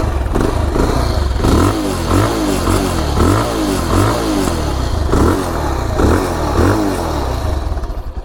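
A Bajaj Pulsar 220F motorcycle engine revs up close and loud, with a rhythmic series of throttle blips rising and falling over a rumbling idle.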